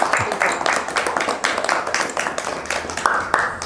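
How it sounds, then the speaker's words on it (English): Applause from a small audience at a community talk event, scattered claps forming an uneven rhythm close to the recorder. "Let's give him a round of applause."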